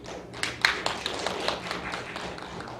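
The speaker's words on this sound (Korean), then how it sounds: "박수 쳐드립니다." A church congregation claps briefly during a Sunday morning sermon. A short burst of scattered, fairly close handclaps rises quickly, then thins into a few lingering taps.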